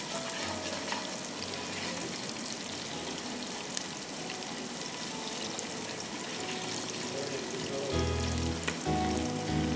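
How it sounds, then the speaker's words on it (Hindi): Spices sauté in hot oil in a pan for chicken pulao, a steady close sizzle with faint stirring, and a stronger low rumble near the end. "हल्का सा इसमें गोल्डन कलर आएगा तो हम इसमें सारे मसाले डाल देंगे, हल्का सौते करके"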